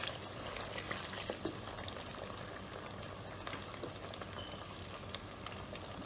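Tomato paste fries in a generous pool of oil for a tomato beef stew, giving a soft, continuous sizzle and bubbling with faint crackles, quiet and close, with no talking.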